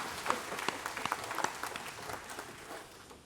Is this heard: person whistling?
no